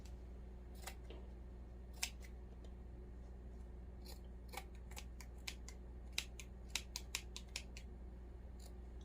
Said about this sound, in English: These are old scissors.